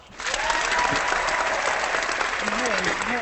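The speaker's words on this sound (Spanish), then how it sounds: "No paran los aplausos ni la risa" Sustained audience applause in a Spanish-language hangout, dense steady clapping that continues through, mixed with voices and laughter.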